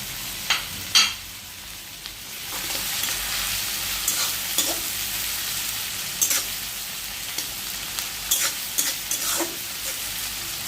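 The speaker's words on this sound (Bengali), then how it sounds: "পেঁয়াজটা একটু লাইট গোল্ডেন ব্রাউন করে নেবেন মানে হালকা ভাজা বেশি ভাজাও না আবার বেশি কাঁচাও থাকবে না" Sliced onion fries to light golden brown in a pan for a rupchanda (pomfret) fish curry, a continuous close sizzle broken by occasional louder stirring scrapes and spatters, with no talking.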